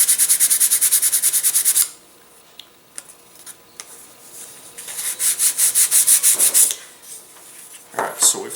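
A balsa wing of an elastic-launched model glider is sanded in quick rhythmic back-and-forth strokes, close and distinct, with a pause of light taps in between before a second run of strokes.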